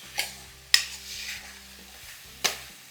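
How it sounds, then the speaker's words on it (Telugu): Lentils frying in oil in a pan while cooking dosakaya pappu, Telugu cucumber dal: a soft, faint sizzle with a few sharp spoon or pan clinks spaced irregularly, close by, no talking. "వేసుకుని నూనెలో కాస్త ఇలా వేగనివ్వాలి"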